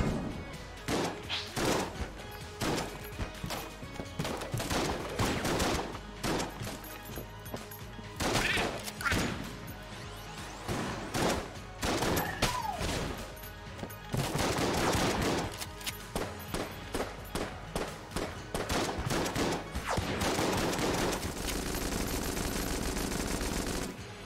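Gunfire in the video game Enter the Gungeon, with rapid bursts of shots, thuds and crashes coming in quick clusters that repeat throughout, loud and dense, then a steadier rushing stretch near the end.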